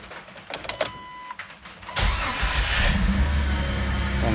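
A Jeep Wrangler TJ is started. A short whir and a few clicks lead into the engine catching at about two seconds, followed by a loud, steady idle.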